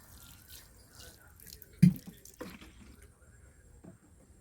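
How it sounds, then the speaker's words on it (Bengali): Light watering of freshly sown seeds covered with compost in a pot on a roof garden: faint, soft splashes and drips trickle unevenly, with one brief sharper splash partway through, and no talking. "এবার আমি এর উপরে জল দিয়ে দেবো তো বন্ধুরা আমি হালকা জল দিয়ে দেবো"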